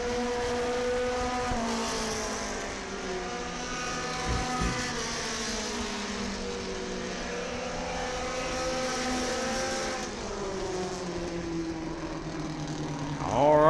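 Race car at County Line Raceway running on the track, a droning engine whose pitch rises and falls as it passes, steady and moderately distant.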